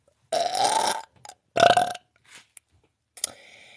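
A woman lets out two long, loud, rasping burps close by, each about a second or less, followed by a few shorter faint belches and small trailing noises.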